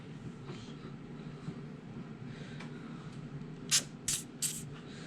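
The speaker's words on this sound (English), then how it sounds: "I'll be back when I start spraying these with silicone." Three short, sharp hisses from an aerosol can of silicone spray on RC car tracks in quick succession near the end, after a quiet stretch of faint background noise.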